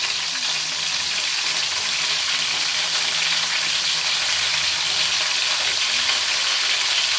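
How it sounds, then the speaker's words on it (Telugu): Brinjal pieces frying in oil, a loud, dense, unbroken sizzle that stays close and even throughout with no voices. "ఇట్లా అన్ని వంకాయలు వేసి ఫ్రై చేసుకోవాలి."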